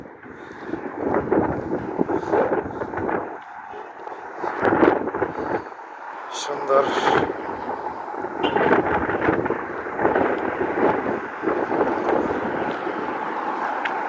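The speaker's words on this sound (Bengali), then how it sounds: "হাওয়া, প্রচুর বাতাস।" Strong wind roars and buffets the microphone throughout in loud, rumbling gusts, with a single short spoken word.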